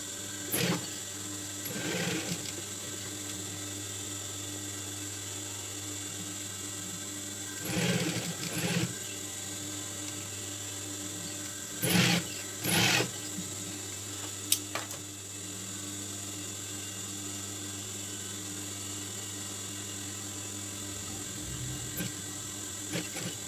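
Sewing machine stitching a logo onto a hat, a steady mechanical whir with a constant hum throughout, broken by a few brief louder bursts of activity, close and with no talking.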